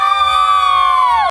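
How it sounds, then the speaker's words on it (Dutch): A group of children at a hockey club cheers in one loud, high, sustained shout that holds for about a second before breaking off. "Eén keer juichen hard, heel hard."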